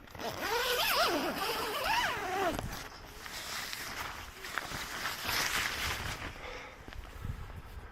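A zipper on a Coleman Chimney Rock 3 blackout tent is pulled in a few quick, close rasping strokes, followed by rustling of tent fabric.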